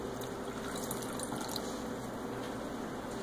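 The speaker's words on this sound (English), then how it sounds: "Just pour more of your distilled water that you purchased" Distilled water is poured into a dish under a Venus flytrap, making a soft, steady trickle and splash that stays faint and continuous.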